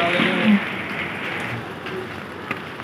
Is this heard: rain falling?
yes